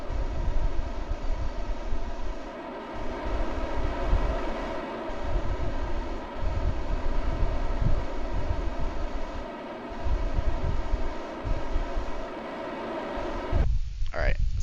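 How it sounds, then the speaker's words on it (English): Rocket engines in Kerbal Space Program roar as a dense, steady broadband rumble for many seconds, loud and continuous, cutting off near the end. "Forgot how loud those engines are."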